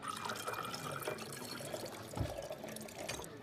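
Liquid pours into a pint glass at a bar, a steady trickling splash close by over a busy background din, with one dull knock partway through.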